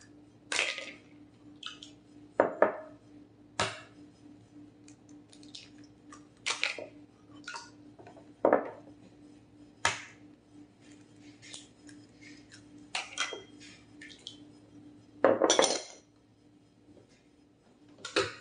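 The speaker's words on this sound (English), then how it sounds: "it's time to add the eggs. You're going to use 3 eggs." Eggs being cracked and added to cake batter in a kitchen, a series of sharp close taps and cracks at irregular intervals, separated by near-silence.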